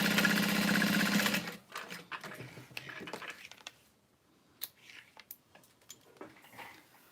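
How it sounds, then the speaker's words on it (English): A sewing machine stitches across the top of a piece in one loud, close, buzzing run of about a second and a half, then stops and leaves scattered light clicks and handling taps. "And then I'm going to sew across the top."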